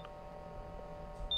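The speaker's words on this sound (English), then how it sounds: "There's the beeping. Yep," Electronic beeping in the indie survival horror game Expedition Zero, a short high tone sounding near and clear at the end over a quiet low hum.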